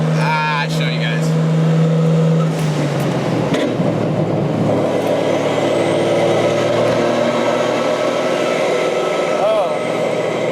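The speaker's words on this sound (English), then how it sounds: "That was the cleanest shift it's ever done into fourth." Nissan 240SX with a 1JZ engine driving, engine note climbing then dropping as it shifts into fourth gear, a loud continuous interior drone with road noise and people talking.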